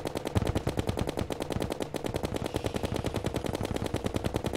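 Rapid automatic weapon fire in the video game Terraria, a dense, continuous stream of sharp repeated shots at steady rhythm, loud and without talk.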